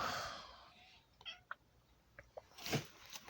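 A house cat named Sambo meowing near a person: a drawn-out meow at the start, then a few short chirps and small sounds, ending in another louder cry.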